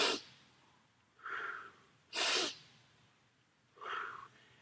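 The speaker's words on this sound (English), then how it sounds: "When you breathe in through your nose, push out with your stomach." Close, airy breaths through the nose during a core breathing exercise: four rushing sounds of roughly half a second each, alternating sharper noisy draws with softer ones, separated by short quiet gaps.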